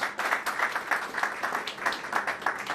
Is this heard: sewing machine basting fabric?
no